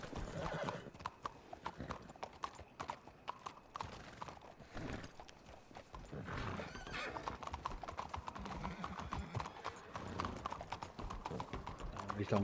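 Horse hooves clip-clop steadily in a video game roleplay, with whinnies and neighs rising over the trotting. The sound is busy and fairly close, and voices are faintly present under it.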